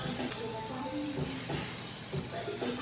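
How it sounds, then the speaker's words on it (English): Seasoned rice is stirred in a hot pan, a quiet scraping and sizzling with irregular swishes of the spoon. "Then you're going to stir that rice."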